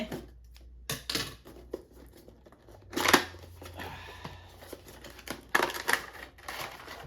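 Scissors snip and crunch through tight plastic toy packaging in several sharp, close bursts, with crinkling and rustling between the cuts in a quiet room.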